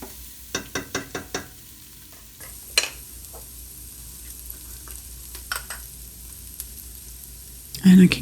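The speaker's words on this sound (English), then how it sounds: "it's going to cook along with the rest of the sauce. And we'll give that a stir." Red sauce gravy stirred in a pot, a quick series of sharp spoon clicks against the pot, then a quiet simmer with a few scattered knocks and a louder clatter at the end.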